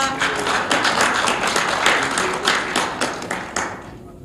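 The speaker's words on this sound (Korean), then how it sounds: "박수로 맞아주시기 바랍니다." Forum audience at a Gangneung residents' self-governance discussion applauding to welcome the moderating professor: steady, dense clapping from a room of people, fairly close, tapering off at the end.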